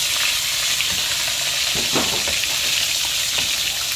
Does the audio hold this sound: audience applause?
no